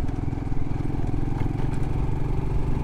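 A motorcycle engine runs steadily and loud throughout on a road trip in Namibia, with a continuous low drone and faint clatter and no speech.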